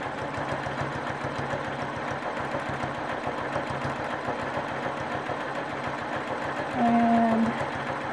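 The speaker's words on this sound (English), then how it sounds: "stitch along the top, stitch along the anchor" A sewing machine stitching a quilt runs in a steady, fast mechanical rhythm throughout, close and even, with a slight rise near the end.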